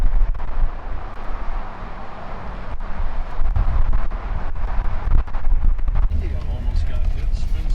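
Strong wind roars and buffets the microphone steadily with low rumbling gusts throughout, on a cold, foggy day in San Francisco.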